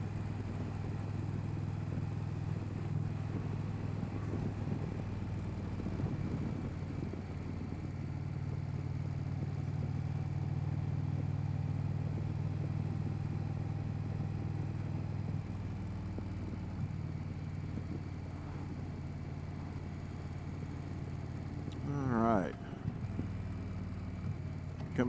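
A 2025 Indian Pursuit 112 motorcycle cruises down the highway with a steady low engine drone and wind rush, easing off toward the end before a short clattering burst.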